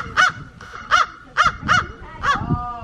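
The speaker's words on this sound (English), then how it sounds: "And there's birds squawking and little kids squawking back at them." Large wading or water birds squawking along the Anhinga Trail boardwalk in Everglades National Park, South Florida: five loud, harsh honking calls spaced about half a second apart, close to the listener, with no talk over them.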